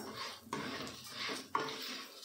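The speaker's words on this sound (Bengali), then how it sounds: "চাল দিয়ে এবার একটু নাড়া দেবো।" Rice being stirred in a cooking pot over low heat, with soft scraping and two sharp metallic clinks of a spoon against the pot, quiet and close.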